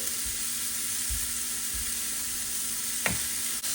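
Food sautés in a salted pan, a loud continuous sizzle with a few soft scraping stirs and a brief clink near the end.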